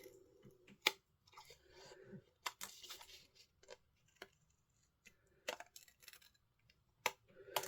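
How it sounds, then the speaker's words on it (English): Scissors snipping through paper strips for handmade cards, a series of sharp, close crisp cuts at an irregular pace with quiet pauses between them. "I'm just going to cut them down."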